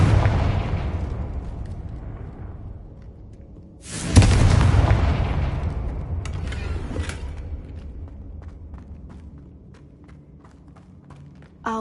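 A spell explosion in Hogwarts Legacy, the game, lands as a sudden loud boom about four seconds in. It follows a low rumbling ambience, and its broad roar decays slowly into faint creaks and clatter.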